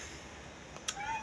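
A cat meows once, short and fairly faint, against a quiet indoor background in a home.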